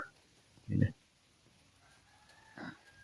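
Chickens kept in a wire-mesh cage coop give two short, distinct calls about two seconds apart, the first louder, over a quiet background.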